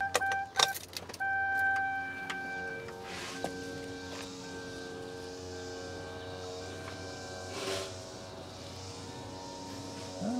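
In a GM truck under fuel-line repair, a key turns to on with a jangle and clicks, followed by a faint steady electric hum of the fuel pump priming under quiet shop ambience.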